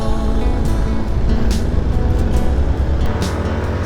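A Hero Xpulse 200 motorcycle carrying a pillion and load climbs a steep road in first gear, its engine a loud, steady labouring drone with wind rush throughout.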